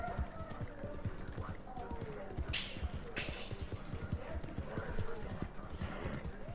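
Hoofbeats of a horse galloping in the video game Red Dead Online, a steady clip-clop rhythm running throughout, moderately loud under continuous in-game noise and voices talking.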